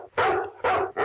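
Sharp barks from a dog in an old radio crime drama, three loud close yaps in quick succession with brief gaps between them, alone with no voices.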